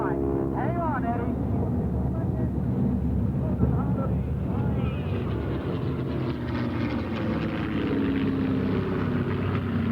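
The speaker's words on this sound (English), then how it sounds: "It's the torque of the engine that's making the airplane turn around." A stunt plane flown by Eddie Andrini at an airshow holds a continuous propeller-engine drone, loud and steady, while someone commentates over it.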